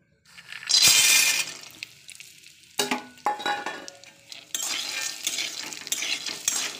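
Peanuts frying over a low flame, with a loud burst of sizzling up front, then sharp scraping and stirring scrapes and a steady crackle that continues to the end, with no talk.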